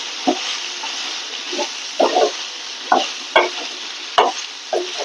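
Bitter gourd pieces are stir-fried in a hot pan under a constant sizzle, with about nine distinct spoon scrapes and tosses at irregular intervals.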